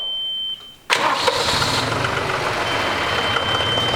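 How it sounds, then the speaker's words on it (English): A faint high whine, then a diesel tractor engine cranks and catches in 14-degree cold, settling into a loud, steady diesel idle that continues close by. "diesel tractor needs to warm up for a while"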